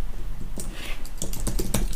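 Typing on a computer keyboard: a quick burst of close, crisp keystrokes, sparse at first and then a rapid clustered run of clicks.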